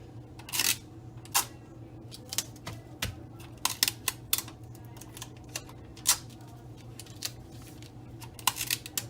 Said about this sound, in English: I'm going to tape it.